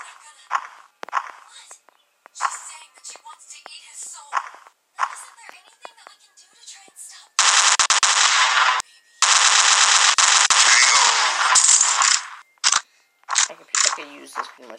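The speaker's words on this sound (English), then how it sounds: "Just use the assault rifle like it's a sniper." An assault rifle fires in a Special Ops shooting video game, with long bursts of rapid automatic gunfire between shorter clicks and taps, loud and close.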